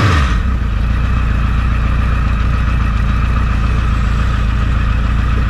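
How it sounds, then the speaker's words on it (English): A carburetted engine settles into a steady, loud idle after a gentle rev, its low, even rumble continuing without break and with no voices. "I just sort of gently revved it a little bit just so the engine's like idling like normal"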